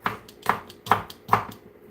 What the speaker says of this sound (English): We're just kind of chopping these up right now.